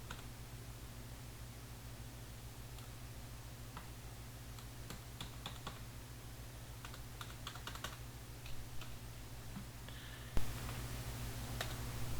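Keys on a computer keyboard are tapped in short, irregular bursts of soft clicks over a steady electrical hum, with no talking.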